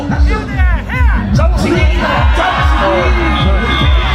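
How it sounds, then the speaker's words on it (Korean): Crowd cheering and whooping at a ssireum (Korean wrestling) competition in Uljin, loud and continuous, with shouts and excited voices of an announcer or spectators over the din. "오늘 박수!"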